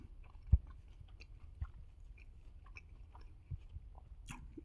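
Biting into and chewing a bacon, lettuce and tomato sandwich, a sharp crunch of the first bite followed by soft, quiet chewing and a few smaller crunches close to the listener, with no talk.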